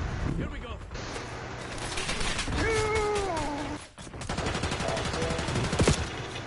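Rapid gunfire from Call of Duty: Black Ops 6 multiplayer chatters in bursts with near and far shots, and a long meow-like cry rises midway while players talk over the action.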